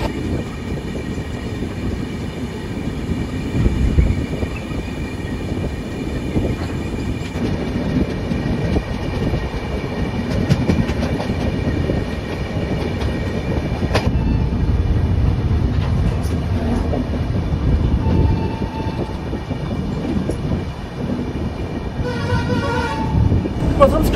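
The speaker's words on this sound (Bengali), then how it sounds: "প্রথম স্টপেজ রানীগঞ্জে এসে ট্রেন ঢুকলো অলমোস্ট 16 মিনিট ডিলেতে" The Agniveena Express, an Asansol to Howrah daily superfast train, pulls into Raniganj station, heard from inside a chair car: a loud, steady rumble and wheel clatter throughout, with short horn toots near the end.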